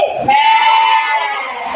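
Children's voices imitate a goat bleating in a classroom, one sustained, wavering bleat held for well over a second after a brief shorter start, loud and close.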